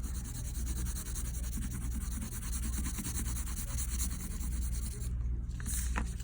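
A pencil shades heavily along the edges of a shoe drawing, giving a continuous close scratchy rubbing with a steady back-and-forth rhythm, fairly soft and uninterrupted, with no voices.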